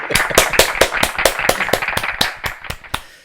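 About a dozen sharp, evenly spaced hand claps ring out close to the microphone, fading slightly toward the end, recorded for a middle school meeting recap.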